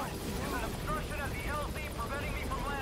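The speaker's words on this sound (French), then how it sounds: "J'ai failli louper l'hélicoptère tellement j'étais dedans." A helicopter in the video game Metal Gear Solid 5 makes a steady, loud rotor thrum with a rapid chop, alone and unbroken throughout.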